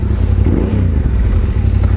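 Yamaha Tenere 700 motorcycle fitted with an aftermarket Akrapovic exhaust, its engine giving a steady low rumbling idle with a slight clatter, close and continuous.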